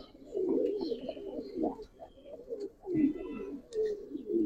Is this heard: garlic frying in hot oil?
no